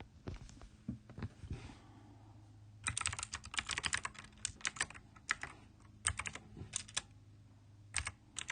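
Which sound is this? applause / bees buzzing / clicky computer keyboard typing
clicky computer keyboard typing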